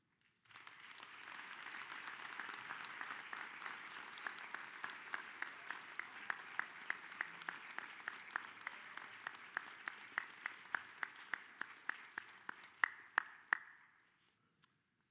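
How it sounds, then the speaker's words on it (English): Sustained audience applause fills a hall of fame ceremony, steady and dense for about thirteen seconds, with a few sharper individual claps standing out near the end before it stops abruptly. "I know you've been applauding for more than 2 hours"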